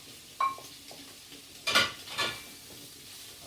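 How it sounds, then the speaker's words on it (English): Chopped onions going into a hot pan that already holds browned sausages, giving a soft sizzle with a few clinks and scrapes as they are stirred, close up and fairly quiet. "So this is when I'll add my onions now."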